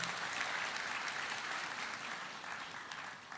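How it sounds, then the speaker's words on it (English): A crowd applauds His Excellency at a live event, a faint, continuous wash of clapping that slowly fades over a few seconds. "Can we please quickly applaud His Excellency?"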